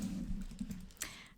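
Computer keyboard typing into a spreadsheet, a few quick close key taps over a low hum, the last tap sharper.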